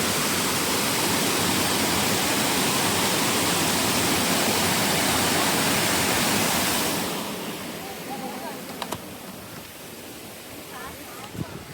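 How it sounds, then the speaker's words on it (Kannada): Water rushing loudly beside a dam as a dense, steady roar that drops abruptly to a softer, quieter flow partway through. "ನೀರು ಹೆಂಗೆ ಹರ್ಲಿಕತ್ತಾವ ನೋಡ್ರಿ."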